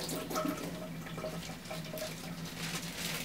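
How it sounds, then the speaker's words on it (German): A piece of copperplate printing paper soaked under a running tap, a steady close rush of water splashing into a sink with no pauses and no voices. "Ein Stück Kupferdruckpapier wird unter fließendem Wasser"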